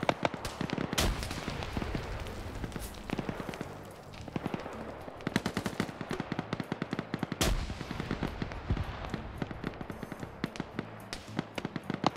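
Video game gunfire crackles in repeated sharp bursts and single shots, some loud and close and others more distant, with a steady rattle that never pauses for long.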